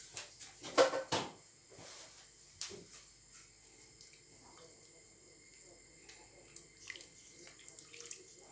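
Water splashing and sloshing inside a coconut milk can being rinsed out while cooking Thai red curry, a few sharp splashes early then soft intermittent trickles and clinks, faint and close.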